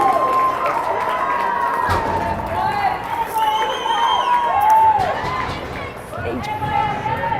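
A packed, standing-room crowd at a state championship hockey game between Arvada and Littleton roars and cheers continuously and loudly, with shouting voices rising and falling throughout.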